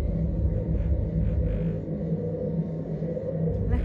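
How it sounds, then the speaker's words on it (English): Muffled low bass from a nightclub party outside a hotel room rumbles through the walls, a steady, loud vibrating drone that continues without a break. "That like vibrating noise, that noise is the party going on out there vibrating our room."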